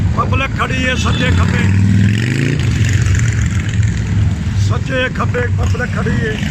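Motorcycles of a rally in a German city pass with a continuous engine roar and a rising rev, near and loud, while someone talks over them throughout.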